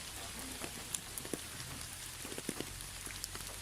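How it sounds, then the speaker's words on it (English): Steady, soft rainfall patters continuously, with scattered sharper drips landing on a surface now and then. "This is the sound of rain"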